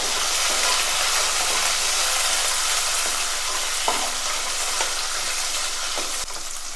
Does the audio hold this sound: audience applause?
no